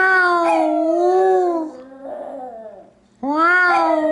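A miniature schnauzer howls and sings in long, wavering tonal notes, close and clear, pausing briefly before starting another rising howl.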